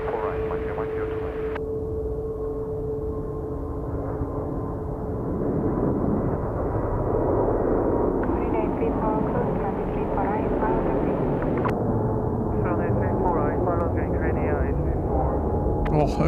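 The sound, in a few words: Airbus A321neo airliner taking off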